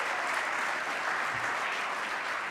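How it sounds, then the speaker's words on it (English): A conference audience at a lunch gives a short burst of continuous, even applause to thank sponsors, heard alone without speech. "Let's give them a round of applause for sponsoring our lunch today and thank them."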